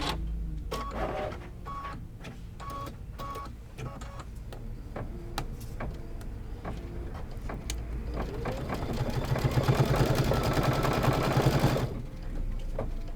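A sewing machine stitches a Christmas tree quilt block made with puffy foam and cork. It runs as a steady mechanical whir with rapid ticking, swelling louder and denser toward the end before easing off, with no voices.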